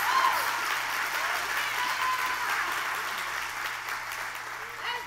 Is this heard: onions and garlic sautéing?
no